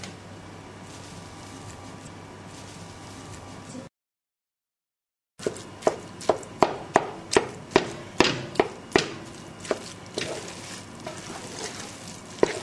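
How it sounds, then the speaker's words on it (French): Whiting fillets land in a hot pan with vegetables, a steady sizzle broken by a gap, then a run of sharp, evenly spaced knocks and clatters over continued frying. "Et maintenant, je vais ajouter les poissons."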